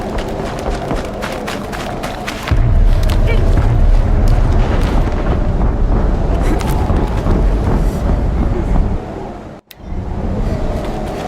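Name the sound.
explosion in the video game Horizon Zero Dawn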